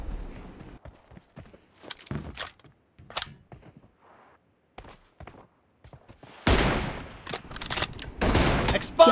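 Gunfire in the battle-royale game PUBG during a one-on-one M24 room match, with sharp scattered shots and clicks over a quiet stretch, then a dense burst of loud rapid firing in the last few seconds.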